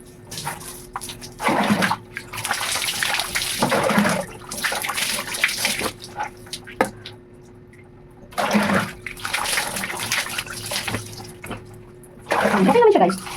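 Water running and splashing while coconut oil hair mask is rinsed out of hair, bursts of pouring and sloshing that stop and restart, close by, with a voice briefly heard near the end.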